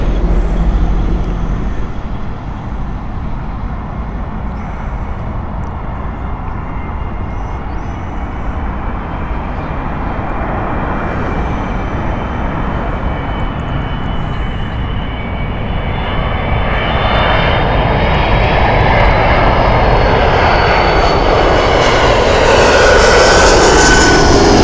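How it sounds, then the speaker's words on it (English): Delta Airbus A330 jet, 15 years old and built in 2006, arriving at Heathrow Airport, its engines roaring loud and continuous for the whole stretch, building toward a higher whine near the end. "Delta, Airbus A330 in next."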